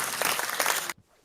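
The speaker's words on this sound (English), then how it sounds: "I have to give myself a clap all the time when I come in" A short spurt of clapping from a person entering an interview, a quick flurry of hand claps lasting under a second before cutting off to near silence.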